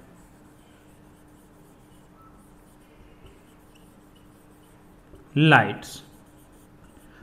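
Chalk or marker scratches across a classroom board in one short, sharp burst of writing, near and clear against a quiet room, with a teacher speaking softly around it.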